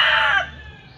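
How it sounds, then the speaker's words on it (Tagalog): A broodcock rooster in a backyard flock crows loudly and close, a bright sustained call that tails off into quieter low clucking over about a second. "Ito yung pinaka-broodcock namin dito."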